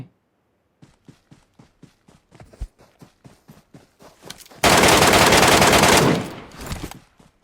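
Gunfire in the PUBG Mobile video game: a run of single shots spaced about every quarter second, then a dense, loud burst of automatic fire lasting over a second, followed by a few more shots.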